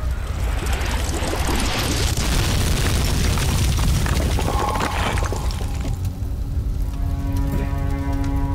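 A huge explosion in the horror video game Amnesia, a dense, loud roaring boom with crackling debris that sustains for several seconds before tapering into a lower rumble and fading ringing tones.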